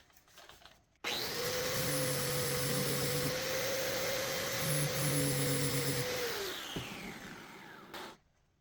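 Electric grinder grinding back a screw, a loud steady motor whine with gritty grinding noise that runs for about seven seconds, then winds down and stops.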